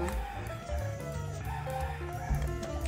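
Roosters in Cebu, Philippines, crow and cluck faintly in the distance over a continuous low outdoor background, with no talking.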